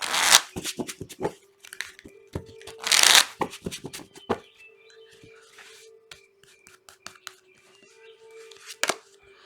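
A deck of Signs from Spirit Love Oracle cards being shuffled close up, with quick riffling bursts and a run of crisp card snaps and flicks, loudest near the start, while a low steady hum runs underneath.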